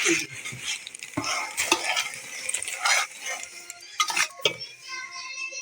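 Panjiri being stirred in a pan as a kilo of sugar goes in, with steady scraping and shuffling of a ladle through the dry mixture and scattered metallic knocks, close by.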